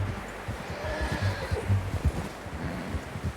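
A horse in the video game Red Dead Redemption 2 neighs and snorts at close range, with soft hoof clopping underneath.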